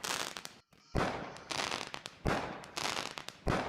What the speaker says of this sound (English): Pretty nice firework.